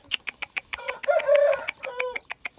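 Indian Aseel rooster crowing loudly and close, with sharp clucks and rapid clicking knocks around a sustained harmonic crow, no speech.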